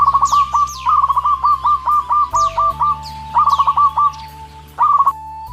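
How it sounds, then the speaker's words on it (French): Garden birds sing in bright, repeated chirping phrases, clear and close, with short bursts and pauses between calls over a faint low hum. "Ferme les yeux, écoute les oiseaux."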